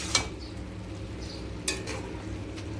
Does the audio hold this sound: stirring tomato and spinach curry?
yes